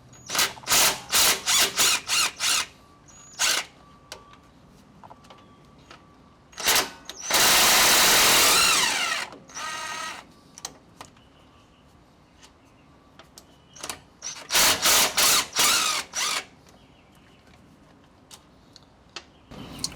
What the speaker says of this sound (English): might have to switch to my handheld ratchet just to give it a little bit more torque